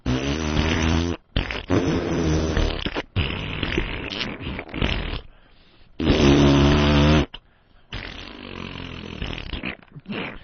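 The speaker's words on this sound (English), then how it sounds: "fart noise" A broadcast fart noise sound effect plays as a series of long, loud, buzzing blats broken by short gaps.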